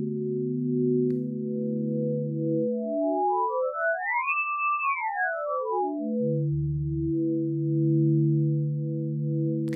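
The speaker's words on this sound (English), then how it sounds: "we've got this sine tree wave, which is this kind of really interesting sort of sine wave sound" A clean sine tone from the U-he Zebra software synthesizer holds steady, sweeps smoothly up in pitch then back down, and settles into a sustained ambient electronic pad.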